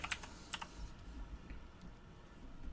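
A computer keyboard is typed on in a few quick, quiet clicks at the start, followed by faint low background noise.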